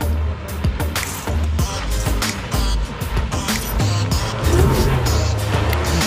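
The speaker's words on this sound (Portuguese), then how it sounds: "tá dando uma esquentadinha no motor" A Kawasaki STX 1100 jet ski engine warms up, idling with a loud, steady rumble and some uneven revving, close by.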